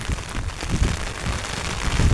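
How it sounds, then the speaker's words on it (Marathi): Steady broadband rain hiss falls outside a village anganwadi building, continuous and fairly loud throughout with low rumbling bursts near the end. "पाऊस ते वाढलाय"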